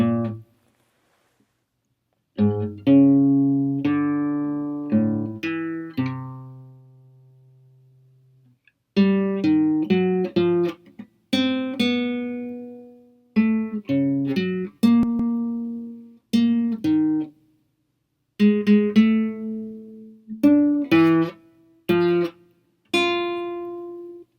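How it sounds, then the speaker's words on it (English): A student's twelve-tone row piece plays on a keyboard instrument, with clear separate notes and short chords in phrases broken by brief silences, heard alone without talk. "you're going to hear Adam's performance of it, his 12-tone row right here"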